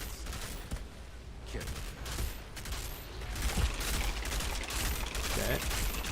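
Rapid gunfire from the video game Outriders crackles in dense, overlapping bursts over a constant mechanical background, steady and fairly loud throughout with no break.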